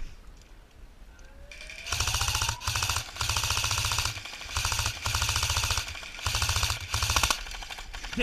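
Airsoft guns fire in rapid automatic bursts during a Battlefield rush-mode game at a horror-themed field, loud repeated volleys separated by short pauses after a quiet start.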